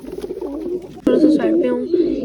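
Soft cooing of a male pigeon and a black female pigeon in low, rolling phrases, fairly close, continuing steadily with a slight swell in loudness partway through.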